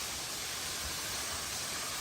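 Motian Waterfall on a mountain hike pours as a steady, dense broadband roar that stays even and continuous from start to finish, with no voices over it.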